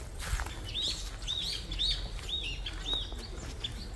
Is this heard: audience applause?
no